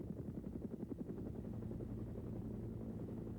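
Steady, rumbling drone of a Sikorsky S-55 helicopter with its Wasp radial engine, heard alone at a moderate distance with a constant low throb and rotor pulse throughout.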